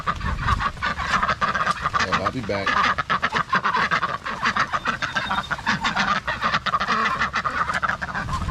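A flock of ducks and geese honks and quacks loudly and continuously, a dense outdoor chorus as they wait to be fed, with someone speaking briefly over the racket.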